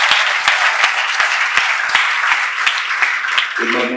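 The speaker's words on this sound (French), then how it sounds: "Applaudissez le roi." An audience at an official wedding applauds a groom crowned king, sustained dense clapping with a few sharp close claps standing out, and a voice breaking in near the end.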